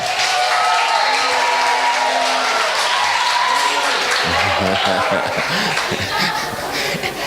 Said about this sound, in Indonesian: Ayo tepuk tangan perempuan.